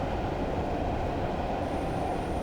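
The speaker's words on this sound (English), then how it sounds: "I've shut down the power there, and I've gone up to gear 4 to allow the train to coast." A train in Train Simulator 2016 coasts with power shut off on the Durham to Darlington route via Bishop Auckland, giving a steady, even rumble of wheels on track with a faint high whine and no talk.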